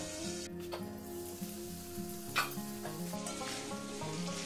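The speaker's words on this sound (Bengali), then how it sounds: "এবারে আমি আলুগুলো তুলে নেব। আলুগুলো ভাজা হয়ে গেছে।" Potatoes frying in oil for a cauliflower and egg curry give a soft, steady sizzle close by, with a brief clink of a utensil partway through and no talking.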